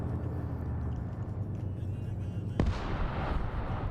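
A weapons cache blown up in a Middle Eastern raid in a military shooter game, a deep rumbling blast with a sharp crack midway followed by sustained rolling low-end roar.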